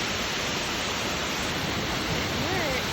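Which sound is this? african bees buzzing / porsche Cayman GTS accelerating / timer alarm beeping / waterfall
waterfall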